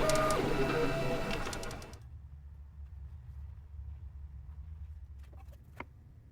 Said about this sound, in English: Here's my 3D printed template fresh off the printer, and here's a quick time lapse showing it being made.